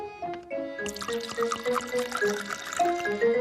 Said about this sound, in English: Fill the bottle 1/4 full of water, like so.